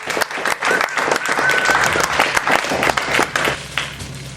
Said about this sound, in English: I'd like you to clap very loud for Amanda Anastasi.